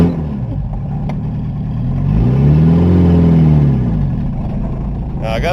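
A diesel engine catches after its glow plugs warm, settling into a low, rising rumble and steady idle that swells in the middle and holds, heard up close, with a brief clatter near the end.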